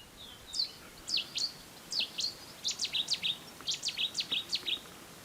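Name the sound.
wild birds singing in Qaradagh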